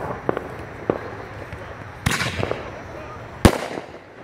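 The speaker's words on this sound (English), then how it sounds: "Ammo Bomber, shell number 2." AFW Ammo Bomber 1-inch canister firework shells burst outdoors in two sharp, loud reports a little over a second apart, with faint crackling pops and small bangs before them.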